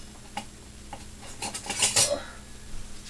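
A metal spatula clinks and scrapes against a plate or pan in a few light, close taps, building to a brief cluster of sharper clatters before settling.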